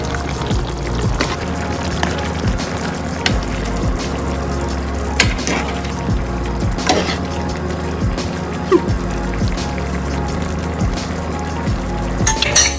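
Shrimp added to a pot of vegetables simmering in coconut milk, giving a steady low bubbling and sizzle with occasional utensil clinks and brief pours throughout.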